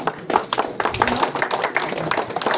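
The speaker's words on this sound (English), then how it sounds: "Please give him a round of applause." Audience applause at an institute award programme, scattered hand claps from a seated crowd, moderately close and uneven in rhythm.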